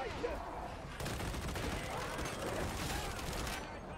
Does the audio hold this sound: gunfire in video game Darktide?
yes